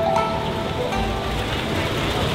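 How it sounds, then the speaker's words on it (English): Steady rain falls over a local fresh market in Taipei, a dense continuous hiss of drops on surfaces with a faint background murmur, no clear talk. "It is a very rainy day today"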